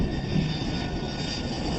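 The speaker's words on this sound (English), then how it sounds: "The crew is flying an MD-80." An MD-80 jet airliner with two rear-mounted engines in cruise flight at high altitude gives a steady, loud, broadband engine roar that holds constant throughout, with no talking.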